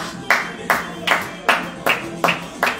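A congregation clapping in unison during morning prayer, seven sharp, evenly spaced claps in a steady rhythm at close range.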